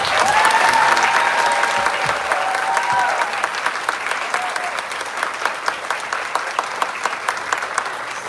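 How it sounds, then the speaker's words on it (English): Ceremony audience giving a sustained round of applause, loud and full at first, then thinning slightly while crisp individual claps stand out, with faint voices beneath. "So one more round of applause, Mrs. Schwartz."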